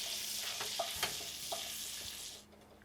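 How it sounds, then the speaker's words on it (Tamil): Two cinnamon sticks and four cloves frying in hot oil with butter while being stirred, giving a steady bright sizzle with a few soft stirring clicks before it quickly dies away near the end. "எண்ணெய் காஞ்சதும் அது கூட 2 பட்டை 4 கிராம்பு போட்டுக்கிறோம்."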